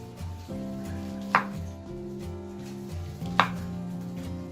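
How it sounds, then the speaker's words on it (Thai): Two distinct knife chops strike a cutting board about two seconds apart as radish cake is cut into cubes, over a quiet steady background hum. "เราจะหั่นเป็นลูกเต๋าค่ะ"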